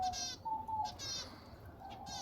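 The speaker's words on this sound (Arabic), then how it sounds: "عندنا خانات مال حمام كلهن عندهن أفراخ" Pigeons coo from their nesting compartments, soft repeated calls in short phrases over a quiet background, with a few faint higher chirps mixed in.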